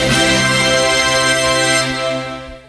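A bright, shimmering synthesized chime from a Teenage Mutant Ninja Turtles pinball machine, resembling the Windows startup sound, swells and then fades out over a few seconds, rich with layered tones.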